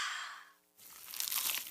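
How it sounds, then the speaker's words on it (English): Crunchy bite into a slice of cheesy pizza: a quiet pause, then a burst of crisp crackling and crunching that carries on close up, with no talk. "Is that the sound of an ooey gooey cheesy crunchy slice of P-I-Z-Z-A?"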